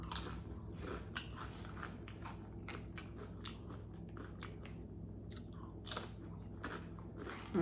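Close, repeated crunchy bites of tortilla chips at home, sharp crackling bursts over a low steady background hum, with the loudest crunches near the end.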